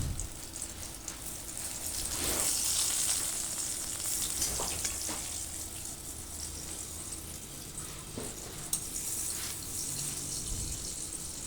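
Eggplant slices fry in oil in a wok, making a quiet, even sizzle with occasional faint clinks and scrapes; no voices.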